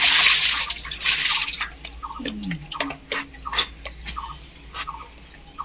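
Cut jackfruit being rinsed under water to wash off the sticky sap: an opening gush of running water, then scattered drips, splashes and wet handling sounds close by, with no speech.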